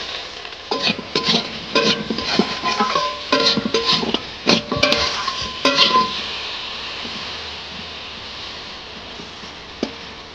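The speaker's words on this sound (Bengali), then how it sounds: "পটল ভাজাটা আমি ঢেকে দিয়েছি, পটল ভাজাটা এখন আস্তে আস্তে হোক" Pointed gourd (potol) slices dusted with turmeric frying in a pan, with a run of scraping, clinking stirs against the pan over a low sizzle for the first several seconds, then a quieter steady hiss and one last clink.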